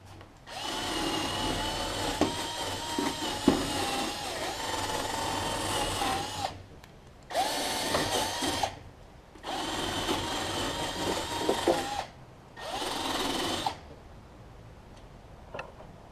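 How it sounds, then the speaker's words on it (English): A wire brush, likely powered, scrubs the damaged threads on the flywheel end of a Briggs Quantum engine from an MTD push mower, running in three steady bursts of busy scratching whir with short pauses between. "Might wire brush it while I got it here too."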